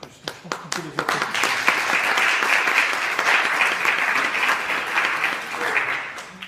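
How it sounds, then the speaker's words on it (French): Applause at a French legume research meeting, beginning with a few separate claps and quickly filling into dense, steady clapping from the audience that carries on for several seconds. "Donc, je pense qu'on peut les applaudir."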